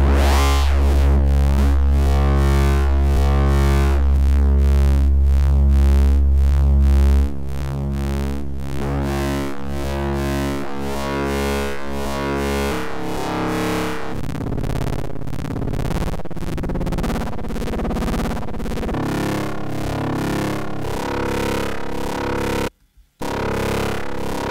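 An FM-synthesized analog sine wave synth plays a dense, buzzing electronic tone with a heavy low drone that drops partway through, shifting timbres continuing to the end after a brief cutout.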